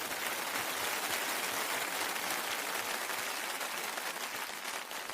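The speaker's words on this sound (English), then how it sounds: "I think that deserves a round of applause." Studio audience clapping steadily at a television tribute show, a dense even patter with no talk above it, fairly near and holding at one level throughout.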